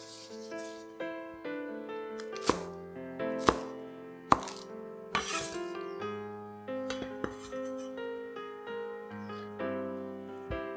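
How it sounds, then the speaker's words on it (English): A knife chops spring onion into pieces on a cutting board in a kitchen, with several sharp, separate knocks against the board heard over soft background music. "cut both parts into about 2-inch pieces"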